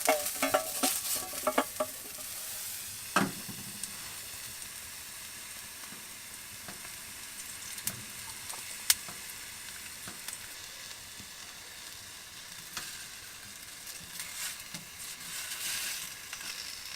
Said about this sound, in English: I'm using this smaller frying pan at the moment.